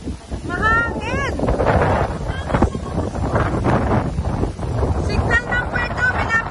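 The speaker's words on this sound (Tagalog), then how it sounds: "Ay! Mahangin!" Strong typhoon wind gusts in rural Bicol buffet the microphone in rough, uneven bursts while people talk and call out over the roar.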